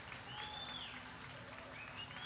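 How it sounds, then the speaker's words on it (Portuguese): A crowd applauds for Governor Wilson Lima at a fishing-equipment handover in the interior of Amazonas; the clapping is faint and distant and runs steadily throughout, with thin whistle-like tones drifting above it. "Isso merece uma salva de palmas muito forte ao nosso governador Wilson Lima."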